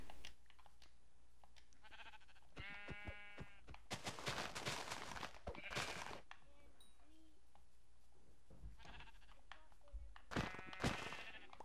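Sheep bleating in Minecraft, several short wavering bleats with clear harmonic stacks scattered through the clip, fairly loud against a quiet game background.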